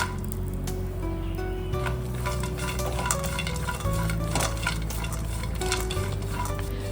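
Cashews and raisins frying in hot ghee in a pan, a steady close sizzle with scraping stirs and clinks of the utensil against the pan, and no one talking.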